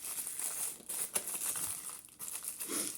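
Plastic packaging around rolls of washi tape being opened, giving close, continuous crinkling and a few sharper crackles over a hiss.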